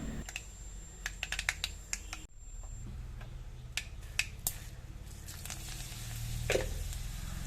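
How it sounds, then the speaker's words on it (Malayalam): Sharp, irregular pops and crackles from mustard seeds bursting in hot oil, scattered bursts with a low sizzle underneath. "ഇതിലേക്ക് കടുക് ചേർത്ത് കൊടുത്തിട്ട് അതൊന്ന് പൊട്ടി വരുന്ന സമയത്ത്"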